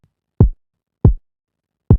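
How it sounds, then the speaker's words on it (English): Three dry, unprocessed kick drum hits sound alone with long gaps between them, each a short low thump with a soft attack and a quick decay. "this is what the kick sounds like by itself."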